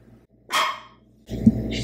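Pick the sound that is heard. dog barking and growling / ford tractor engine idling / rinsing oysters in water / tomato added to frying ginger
dog barking and growling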